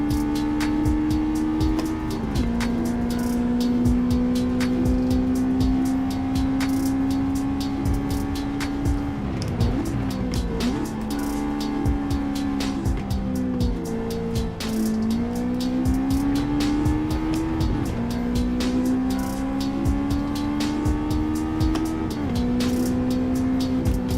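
A car drifts in Gran Turismo 7, with a steady engine drone rising and falling as the revs change and tires squealing through the slides, loud and continuous throughout.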